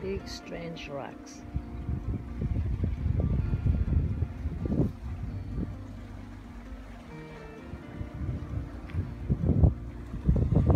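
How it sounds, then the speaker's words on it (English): Early-morning wind at Praia da Luz beach in Lagos, Portugal, buffets the microphone in low gusty rumbles, with surf in the background and someone talking over it. "Early morning and it's windy"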